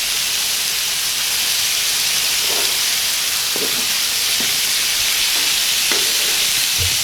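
Rainbow trout fillets sizzle in a pan over a barbecue, giving a loud, steady frying hiss with a few faint clicks and pops throughout.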